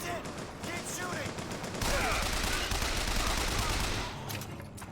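Sustained gunfire from the video game Bioshock Infinite, a dense and continuous barrage that swells louder midway and eases slightly near the end.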